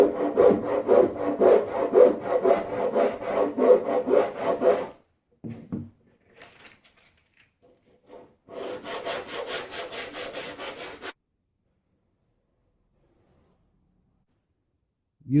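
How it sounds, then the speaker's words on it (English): A hand file rasping along the wooden railing edge of a model ship, steady back-and-forth strokes in two bursts separated by a pause, close and clear with no talk. "I'm going to use a file and sandpaper to remove this little edge projecting over the railing side."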